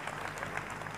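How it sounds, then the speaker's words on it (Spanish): Congregation applause for Jesus Christ during a church healing service, a dense, steady wash of clapping that fills the whole moment at an even loudness. "vamos a aplaudir a Jesucristo"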